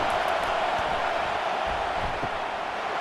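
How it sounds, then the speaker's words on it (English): A stadium crowd in a college football video game, LSU against Auburn: a dense, continuous roar of cheering fans at steady volume, broad and distant-sounding. "Listen to this crowd just shaking the girders of this place trying to help their defense."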